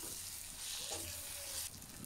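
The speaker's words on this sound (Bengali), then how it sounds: "এখন মশলা সব একসাথে একটু ভেজে নিব।" Ground spices fry together in a hot pan for beef jhura bhuna, giving a continuous soft sizzle with faint stirring scrapes throughout.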